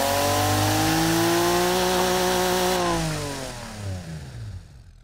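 A virtual inline-six engine in Automation and BeamNG.drive screams loudly through a full-throttle pull as variable valve lift engages at 5,000 RPM. The revs hold high, then the engine drops off and winds down with a few fading burbles.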